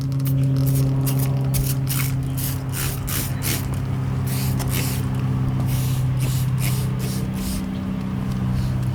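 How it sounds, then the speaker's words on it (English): Detailing spray applied to a Ford F350 Platinum truck panel, a series of quick sharp hissing bursts over a low steady engine or pump hum. "we just spray a couple sprays of this stuff on per panel and then rinse it off immediately"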